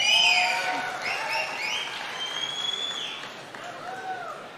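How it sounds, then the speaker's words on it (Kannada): An audience at a Kannada film event applauds the producers, a dense wash of clapping from a crowd with voices calling and cheering over it, loudest at the start and then holding fairly steady. "ನಿರ್ಮಾಪಕರಿಗೆ ನಿಜವಾಗ್ಲೂ ಜೋರಾದ ಚಪ್ಪಾಳೆ ಬರಬೇಕು."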